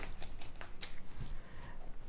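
A tarot deck being cut by hand, giving a few soft papery slaps and slides of cards, quiet and close, with no talking.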